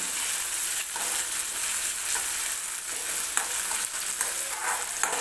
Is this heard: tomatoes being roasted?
yes